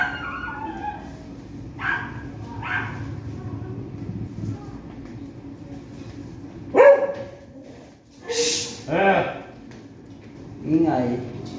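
Several dogs barking in short bursts, with yips and a whimper among them, some near and loud, over a low steady hum with people talking in between.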